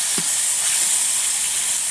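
Spiced vegetables sautéing in a pan give a bright, steady sizzle and hiss throughout, with one brief knock of a utensil at the start.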